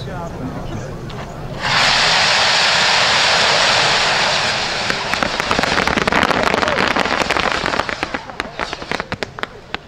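A New Year's Eve barrage of 600 Blättertanz rockets launching at once, a loud sustained roaring hiss that gives way to a dense, crackling volley of sharp bangs. People can be heard talking.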